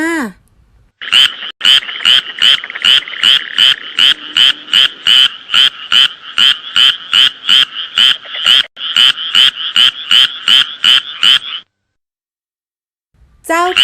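Frogs croak in a steady, loud, rapid pulsing chorus beside a pond, dozens of evenly spaced calls running for about ten seconds before stopping, with a brief voice at the start and end.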